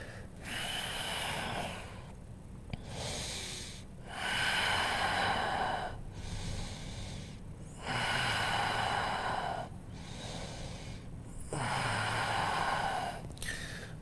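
Slow, deep breaths during a strong vinyasa yoga flow, long audible inhales and exhales alternating in a steady rhythm, close and loud with a rough nasal rush.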